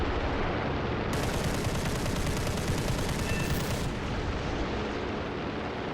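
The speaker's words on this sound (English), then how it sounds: "Bunch of cannons to the wing, and down he goes." An aircraft's wing cannons roar in a long, sustained burst during a War Thunder dogfight, dense and rumbling with no break, the rapid fire blurring into a continuous wall of noise.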